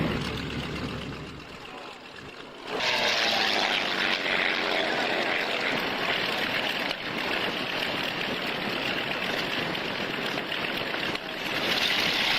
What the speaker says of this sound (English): that real fantastic throaty sort of sound of engine that's just taxiing by